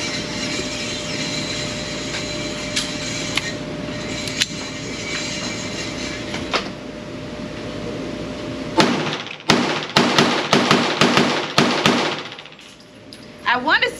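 Rapid string of sharp pistol shots from a Smith & Wesson 22 Victory .22 pistol at a shooting range, about ten crisp reports in quick succession after a stretch of steady background noise.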